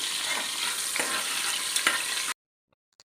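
Spices for ghee rice are mixed in a hot pan, giving a loud, steady sizzle with a few stirring scrapes for about two seconds before the sound cuts off into near silence.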